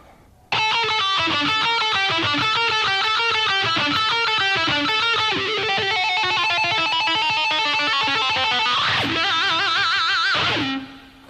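An electric guitar plays a fast, distorted lick at slow tempo through a wah pedal, with quivering vibrato, the tone sweeping and bending near the end before cutting off.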